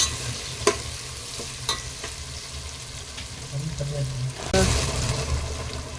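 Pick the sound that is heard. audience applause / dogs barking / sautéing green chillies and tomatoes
sautéing green chillies and tomatoes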